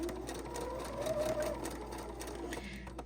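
A sewing machine runs steadily while top stitching a fabric bib, giving an even, continuous motor whir with rapid needle clatter at close range and no talking.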